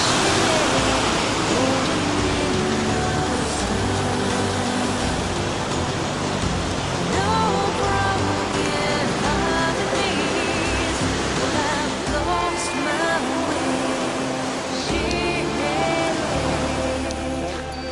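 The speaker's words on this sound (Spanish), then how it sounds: "Baja el agua turbia de las tormentas que han caído." Steady, dense roar of muddy storm water pouring down the Cola de Caballo waterfall in Ordesa, loud and continuous throughout with no letup.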